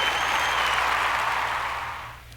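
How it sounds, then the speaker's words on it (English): Applause sound effect laid over an animation: a steady, dense wash of clapping from many hands, loud and even throughout, easing off slightly at the very end. "let's give them some applause."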